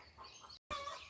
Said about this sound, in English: And that sound is the sound that chickens make after they lay an egg or while they are laying an egg.